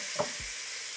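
Celery and carrots sauté in melted butter in a pot over medium heat, giving a steady soft sizzle with one short stir or scrape near the start, brief and moderately quiet.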